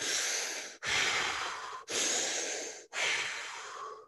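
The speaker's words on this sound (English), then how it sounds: "we do these styles of breath work, it's usually controlled diaphragmatic breathing, where we don't stop like this" Controlled diaphragmatic breathing demonstrated as four long, airy breaths in close succession, each a broad rushing exhale or inhale separated by short pauses, close and clear with no talk.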